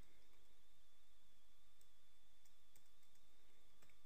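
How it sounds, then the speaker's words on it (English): Faint computer keyboard typing during AutoCAD 2012 drafting work, a few sparse soft key clicks spread across a quiet background hum. "I'm going to type here"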